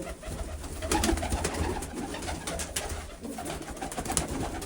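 Pigeons coo steadily through a dense, continuous backdrop of low murmuring calls, several birds close by at feeding time, with no talking.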